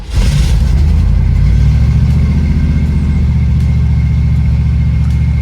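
A Chevy S10 pickup with a carbureted engine cranks over and catches, then settles into a loud, steady, low rumble held at a high idle, heard up close.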